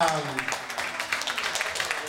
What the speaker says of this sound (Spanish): un aplauso por favor para nuestra ganadora